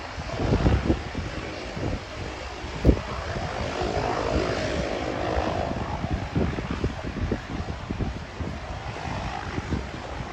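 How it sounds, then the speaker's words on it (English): A Q300 turboprop airliner with only one propeller running passes at an airport, a loud, steady droning roar with wind buffeting the microphone throughout and no talk. "It's a Q300 with only one propeller turned on."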